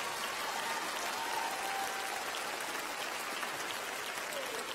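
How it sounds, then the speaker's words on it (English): Audience applause for a gospel band in a TV studio, an even, moderately quiet spatter of clapping that stays constant throughout with no pause. "Ladies and gentlemen, our heroes, a nice round of applause."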